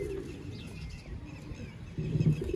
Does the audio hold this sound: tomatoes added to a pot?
no